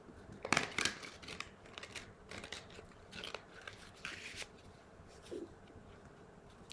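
Stiff plastic tarot cards shuffled by hand, giving quiet, uneven bursts of crisp riffling and snapping, close and faint.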